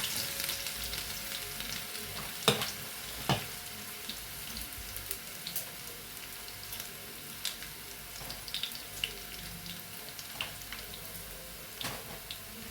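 Garlic frying in oil in a pan for Rayalaseema-style okra fritters, a steady close sizzle with scattered sharp pops and crackles throughout, no voices.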